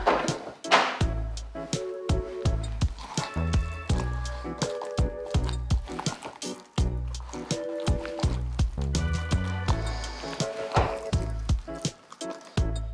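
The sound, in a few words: stirring blended chickpea and tomato hummus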